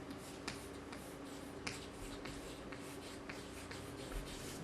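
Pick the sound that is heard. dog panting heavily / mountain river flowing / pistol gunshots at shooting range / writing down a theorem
writing down a theorem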